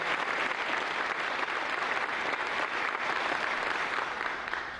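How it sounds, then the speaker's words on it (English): A large audience breaks into loud, sustained applause for an honored public servant at a formal event, steady dense clapping filling the whole stretch with no speech over it. "Let's give him a round of applause to Charlie Evangelista."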